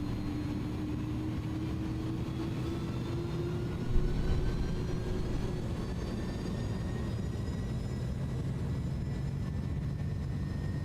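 Twin jet engines of an iniBuilds A310 spooling to takeoff thrust in Microsoft Flight Simulator, a steady loud low roar with rising whine tones throughout, no talking.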